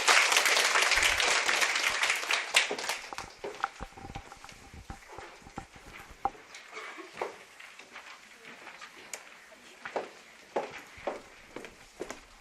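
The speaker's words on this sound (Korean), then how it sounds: "박수!" An audience at an exam-prep information session claps loudly at first, then the applause thins into scattered, fading individual claps over about twelve seconds.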